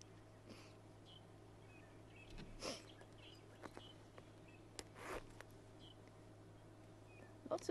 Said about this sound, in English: Lots of birds calling this morning.